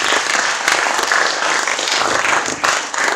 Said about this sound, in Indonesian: demikian kita beri aplaus untuk Pak Dedi